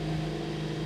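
A 2021 Mercedes-AMG CLA 45 S 4Matic+ Coupe with sport exhaust idles steadily while warming up, a close, even low hum with no revving.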